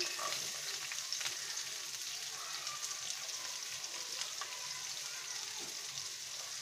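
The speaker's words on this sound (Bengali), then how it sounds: "এখন আমরা প্রথমে প্যানের ভিতরে আমরা যেটা দিব তা হচ্ছে পেঁয়াজ।" Onions sizzle steadily in a hot pan for Bengali potol peyaji, a continuous crackling fry with occasional stirring scrapes, moderately close and without talk.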